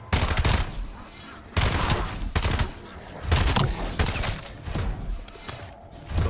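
Rapid gunfire bursts from shooting zombies in Black Ops 7 Zombies, a video game, loud and repeated in clustered volleys with short gaps between them.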